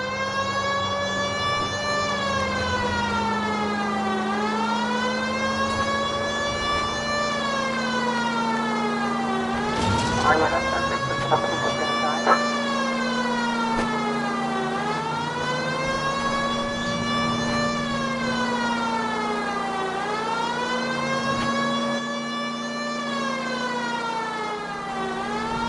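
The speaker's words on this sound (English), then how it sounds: "You know we've got a siren, Phelps" A police car siren in the video game L.A. Noire wails, rising and falling in slow, repeating sweeps over a steady engine drone, with a brief clatter partway through.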